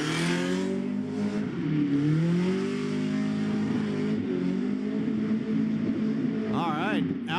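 A V8 drift car at a SPEC-D Pro Drift qualifying run roars and revs loudly with rising and falling pitch, the engine note sweeping up as it powers through, with brief chirps near the end.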